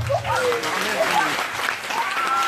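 A church congregation at a French-language prayer and deliverance programme in Lyon applauds in sustained, dense clapping that fills the room, with a voice speaking and crying out over it.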